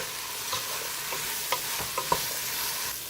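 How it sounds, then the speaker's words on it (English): Paneer and mixed vegetables frying in a pan with chili powder, a steady soft sizzle under a few light scraping stirs from a spoon, quiet and close, with no voices. "Okay, so these are frying nicely."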